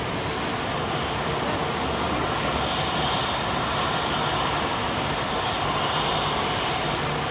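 A jet aircraft climbs out from London Heathrow Airport on a busy evening, its loud broadband engine roar rushing steadily throughout with no voices.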